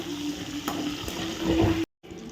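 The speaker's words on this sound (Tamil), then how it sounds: "இந்த வரமிளகாயும் கருவேப்பிலையும் இந்த எண்ணெயிலையும் நல்லா ஃப்ரை ஆகட்டும்" Dried red chillies and curry leaves fry in oil with a steady close sizzle and faint stirring, then stop suddenly in a brief silent gap before the hiss returns.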